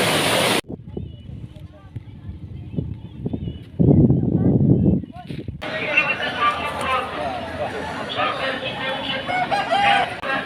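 A chicken crows, its call breaking through people talking nearby, while the background shifts from near-silence to busy outdoor clatter and chatter.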